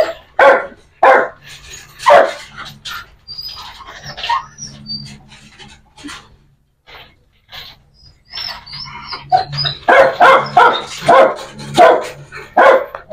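A pair of dachshunds bark loudly and repeatedly in short, uneven bursts, with a quieter stretch in the middle and faint squawks and chirps between the barks.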